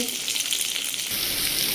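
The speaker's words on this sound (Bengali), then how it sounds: "দেখতে পাচ্ছ এর মধ্যে পেঁয়াজ রসুন সব কিছু দিয়ে দিয়েছি, এবার ভালো করে ভেজে নেব" Oil sizzles steadily in a pan as a fish head fries with onion, garlic and ginger, a close, bright hissing that continues without pause.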